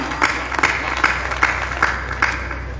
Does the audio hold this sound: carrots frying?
no